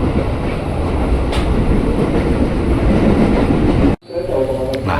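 A Tokyo Metro 6000 series train runs on a KRL commuter line near Depok, its steady loud rumble and rail clatter filling the cabin, then cutting off abruptly near the end before resuming more quietly.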